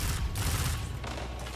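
Rapid gunfire from the Vigilance Wing pulse rifle in the Destiny 2 video game, a dense, loud stream of shots with brief gaps, filling the whole moment with no talking.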